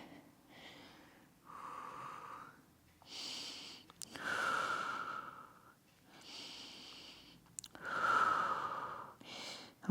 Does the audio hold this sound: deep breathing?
yes